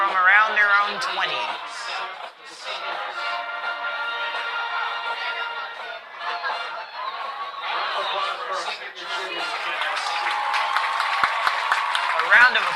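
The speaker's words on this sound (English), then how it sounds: "A round of applause is going around Carl Engel Field right now for our senior football players" Steady crowd applause and cheering at a varsity high school football game honouring senior players on Carl Engel Field, a continuous mid-level clapping wash under a public-address announcer's voice.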